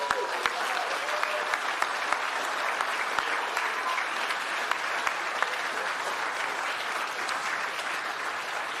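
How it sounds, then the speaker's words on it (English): An audience applauds an innovation award winner at an agricultural Fieldays awards ceremony. The clapping is steady and fairly distant, broken by occasional sharper individual claps, and runs unbroken for about nine seconds. "A round of applause for Scannable."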